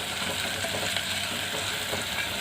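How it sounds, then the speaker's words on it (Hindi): Fenugreek leaves fry in oil in a pan for methi khichdi, giving a loud, steady, close sizzle that fills the whole stretch without any talk. "ये मेथी को 2-3 मिनट हमें तल लेना है।"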